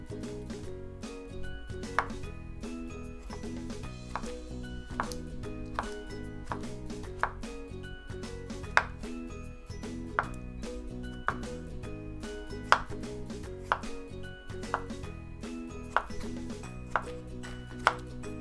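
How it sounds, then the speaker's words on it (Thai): A knife taps steadily against a cutting board chopping toddy palm fruit into small pieces, quick rhythmic chops repeating for a long stretch, crisp and close with soft background music underneath. "จะมาหั่นเป็นชิ้นเล็กๆแบบนี้นะคะ"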